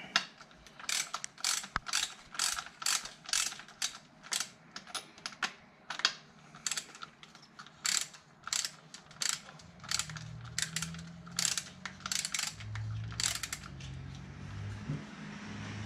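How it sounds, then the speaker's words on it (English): Hand ratchet wrench clicking in quick repeated bursts while tightening a part on a weedeater, close and fairly loud, with short pauses between strokes and a low rumble entering toward the end. "I'm gonna switch back to a ratchet."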